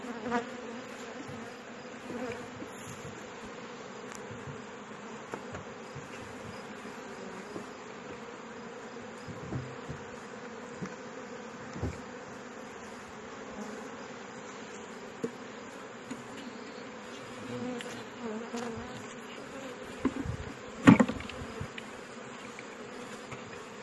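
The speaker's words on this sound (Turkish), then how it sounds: "Arımız gayet sakin." Honey bees buzzing around an opened hive that has been calmed, as frames are lifted out; a steady, moderately quiet hum of many bees with occasional louder passes close by and small knocks, no talking.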